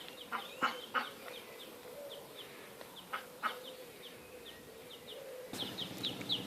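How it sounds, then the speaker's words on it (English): Outdoors on a road trip in Southend, Humberside, a goose or duck gives a series of short honking calls at a moderate distance, irregularly spaced over a low steady ambient hum, with a louder rustling burst near the end. "There's a random goose or duck."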